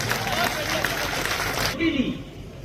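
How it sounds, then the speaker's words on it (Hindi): An audience at a Hindi poetry gathering in Kishangarh Renwal claps in a dense, steady burst, then cuts off abruptly, followed by a brief moment of voices. "दोनों हाथ ऊपर उठा के एक बार ढंग से ताली बजा रहे"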